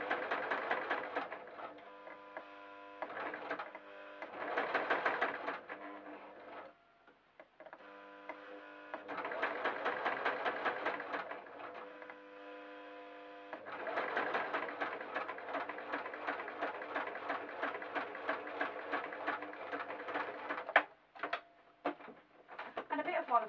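A sewing machine stitches a hem on a fabric sheep door stop, running in several whirring bursts with short stops, a rapid mechanical rattle throughout, and quiet talk in places.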